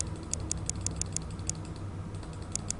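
Rapid, evenly spaced clicks from a computer mouse on a desk, a dozen or so sharp ticks in a quick run with a brief pause midway, close and fairly quiet over a low steady hum with no talking.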